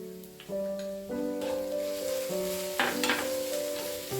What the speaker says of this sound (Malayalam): അതൊന്ന് വഴന്നു വരുന്ന വരെ നമുക്കൊന്ന് ഇളക്കിക്കൊണ്ടേ ഇരിക്കാം